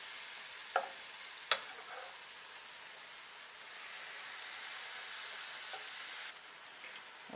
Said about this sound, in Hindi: मालपुए के बैटर को घी में आहिस्ते से डालेंगे।